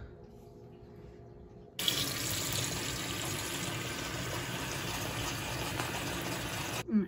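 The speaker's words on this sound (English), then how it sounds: "a dish I'm gonna fill with warm water. Okay, we'll add some soap." Warm water runs from a faucet into a dish for soapy water, a steady loud gushing stream that starts abruptly and continues for about five seconds before cutting off, with no talking over it.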